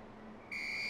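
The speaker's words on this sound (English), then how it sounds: "I got a whistle. Hey, it's the police." A Lego City Undercover character gives a short, sharp whistle, a bright sustained tone that starts abruptly halfway through over faint game background.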